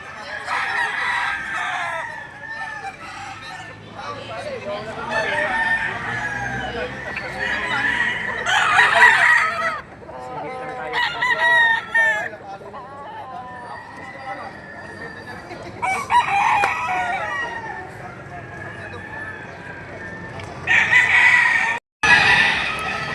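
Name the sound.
roosters crowing at Padre Garcia livestock market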